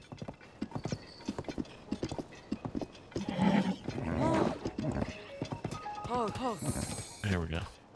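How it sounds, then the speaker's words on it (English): Steady hoofbeats of Ganon's horse in The Legend of Zelda: Tears of the Kingdom clop along in rhythm, followed by loud neighing and whinnying near the end, with game music and effects underneath. "by the time we get to the stables and we register Ganon's horse"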